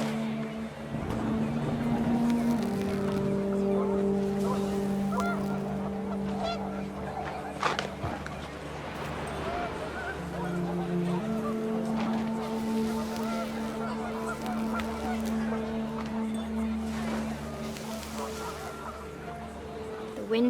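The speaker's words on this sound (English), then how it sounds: "The wind picked up, and panicked geese appeared and quickly went." Panicked geese honk repeatedly in the video game What Remains of Edith Finch, loud overlapping nasal calls sustained over a rushing wind backdrop across the whole stretch.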